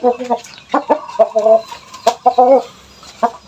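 Ibaraki and Japanese Shamo cross chickens, around seven months old, cluck close by in a series of short, loud, tonal bursts with brief pauses between them.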